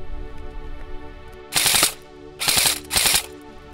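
M4A1 CQB RIS electric blowback airsoft carbine with a full metal gearbox, 7mm bearings, high-speed motor and 6.03 bore barrel, firing three short, loud full-auto bursts separated by brief pauses, no voices.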